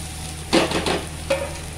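Chopped beans and green peas cook with fried onions in a pan, a soft steady sizzle broken by a few scraping stirs of a spoon, close and moderately quiet.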